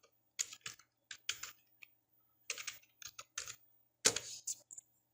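Computer keyboard typing of a user ID and PAN number on the income tax website: irregular bursts of close, crisp key clicks separated by short pauses, with no talking.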